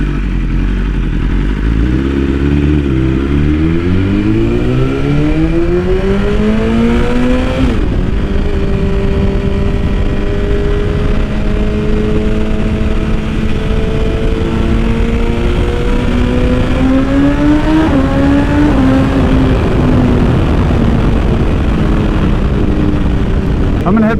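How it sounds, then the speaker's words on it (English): A 2021 BMW S1000RR fitted with an Akrapovic titanium exhaust revs and accelerates through several rising gear pulls, loud and close, with a sharp shift break midway and sustained engine howl; wind and riding noise persist throughout. "I just love the way that sounds. If I ever get a speeding ticket, it'll be because of this exhaust"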